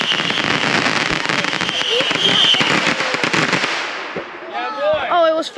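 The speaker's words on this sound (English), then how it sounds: "You just missed an epic cool fireworks" A July Fourth fireworks show fills the air with dense crackling bursts and pops, loud and continuous before thinning out, as voices shout nearby near the end.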